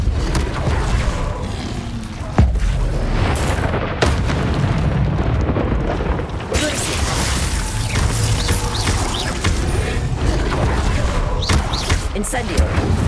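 Bombarda spell explosions in Hogwarts Legacy gameplay, with booming blasts and crackling bursts that repeat over a dense, continuous game soundscape.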